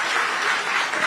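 An audience and journalists applaud at a live TV exchange programme in Lucknow, a brief, even wash of clapping with no voices over it.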